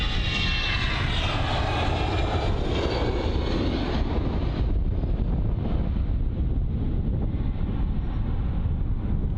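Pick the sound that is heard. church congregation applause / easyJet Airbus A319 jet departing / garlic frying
easyJet Airbus A319 jet departing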